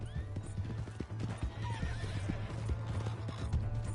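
Rapid galloping hoofbeats clip-clop beneath a horse's whinny in Red Dead Redemption 2, with a steady low rumble and scattered game-like effects filling the background.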